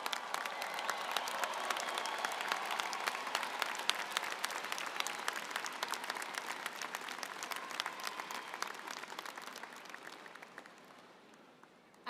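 Graduating students applauding at the 2024 Michigan Ross commencement, a big sustained round of clapping from a large crowd that gradually tapers off near the end.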